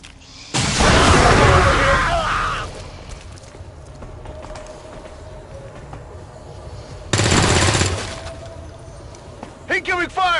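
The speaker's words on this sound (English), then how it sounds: "I'm taking fire!" Two loud bursts of automatic gunfire in XCOM 2 combat, each lasting a second or two, followed by short voiced callouts near the end.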